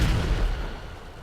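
The Khanjali tank's railgun cannon in GTA 5 fires a single heavy blast, a loud broadband boom that fades into a rumbling decay.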